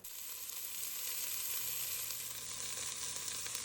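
Lamb shank and yellow onion frying in a pot over medium heat, a steady close sizzle that holds evenly throughout with no voices.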